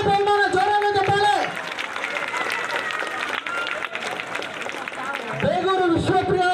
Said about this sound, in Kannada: ಮೊದಲನೇ ಬಹುಮಾನ ಜೋರಾದ ಚಪ್ಪಾಳೆ